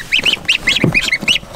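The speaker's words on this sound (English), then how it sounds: "This is a little baby Sebastopol goose." Newly hatched Sebastopol goslings peep in quick, high, close chirps, repeated in a steady run of paired calls with faint soft noises underneath.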